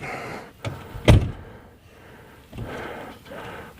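A car door slams shut once with a sharp, loud impact, followed by quieter rustling and handling sounds nearby.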